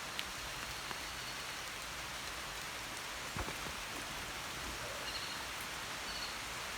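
Steady rain falls on the grounds of the Angkor Thom city wall between the north and east gates, a soft, even hiss with a few scattered drips and taps, no voices present.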